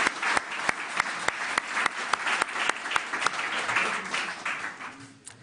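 A panel session audience applauds the interpreters, a full burst of clapping with a few sharp, prominent claps standing out that thins and fades toward the end.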